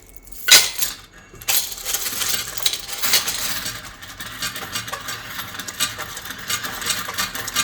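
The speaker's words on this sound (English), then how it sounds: "I'm going to take a bunch of coins and so what I'm going to do right now is I'm going to throw this into the machine" Handfuls of coins are thrown into a Cashdro cash recycling machine, with a sharp metallic clatter at first followed by continuous jingling and rattling as the coins are taken in.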